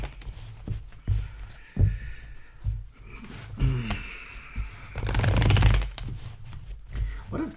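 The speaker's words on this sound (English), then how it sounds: "Let me shuffle these cards up here." A deck of playing cards being shuffled close by, with several bursts of riffling and a longer, dense riffle in the middle, among soft handling noises and breaths.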